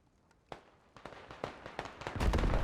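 Artillery explosions in the video game Squad, a series of sharp blasts a few at a time, growing louder and denser toward the end into a heavy rumbling close impact.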